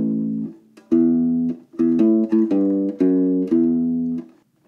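U-Bass plucking the next two measures of a song, a slow series of round, sustained low notes in an uneven rhythm, close and clear with no voices.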